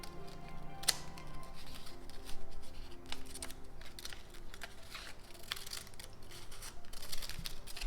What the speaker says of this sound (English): now let's see what happens if we cut it in half